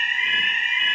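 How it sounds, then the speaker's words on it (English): A fire alarm sounds continuously at a tailoring school, a loud, steady high-pitched electronic tone that fills the room without a break, with no talking over it. "There goes the fire alarm."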